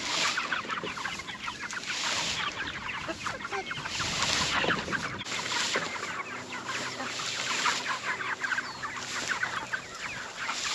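A flock of chickens clucks and squawks continuously in a chicken pen inside an enclosure, many birds overlapping at close to mid distance, busy and fairly loud with no talking.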